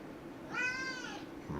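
A cat gives a single drawn-out meow, fairly faint against quiet background noise.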